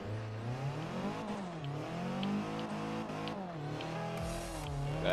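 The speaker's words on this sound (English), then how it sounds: "And I'll just do a donut right here, just because I can." A car spins through a drifting donut, its engine revving and wavering in pitch as the revs swing up and down, with a brief tire scrub near the end, loud and continuous with no talking.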